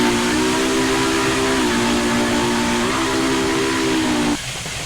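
Steam whistle of a Union Pacific FEF-3 locomotive in Train Simulator 2015 sounds one long, steady chime-like blast over engine rumble, then cuts off sharply near the end, leaving a quieter hiss.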